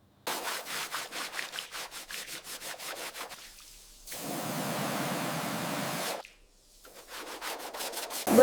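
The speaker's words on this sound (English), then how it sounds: "By applying the cleaning agent methodically and scrubbing gently, we can lift decades of rust without damaging the underlying" Rust is scrubbed off the chassis of a 1902 Stanley Steamer with a cleaning agent: quick, rhythmic, close rasping strokes, then a longer steady scrub, followed by more brisk strokes, with no talking.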